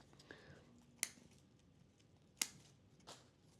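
Pruning shears snip branches on a tall bonsai benjamina (ficus) tree, giving two sharp, close, isolated clicks about a second and a half apart with a fainter third cut near the end, over a quiet background.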